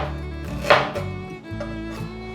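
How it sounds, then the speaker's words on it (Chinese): A knife chops ginger into slices on a cutting board, making a few crisp, close knocks with a sharp strike near the start and softer cuts after. "把姜切片"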